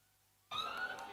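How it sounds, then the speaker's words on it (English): At an outdoor cricket match final, a siren signalling a no ball switches on abruptly partway through and wails steadily over distant crowd ambience. "this siren tells you what is the story. It's a no ball and will be followed by a free hit"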